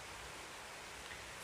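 Steady rainfall in the Minecraft video game, a continuous even hiss of falling rain heard alone with no other sounds.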